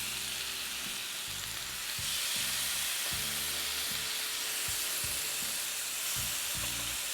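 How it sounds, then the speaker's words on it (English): Bourbon-glazed lamb chops sizzle steadily in a hot pan, a dense continuous frying hiss with some low irregular bumps, loud and close, with no talking. "We're going to allow the lamb chops to cook for about 2 minutes per side"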